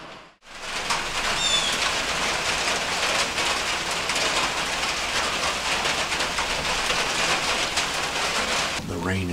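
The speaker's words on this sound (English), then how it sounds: "Sitting in here in the rain right now, 46 degrees. It's been raining all day" Steady rain falls outdoors on a farm field during a cool autumn deer hunt, a dense continuous hiss heard from inside a shelter, constant throughout with no speech.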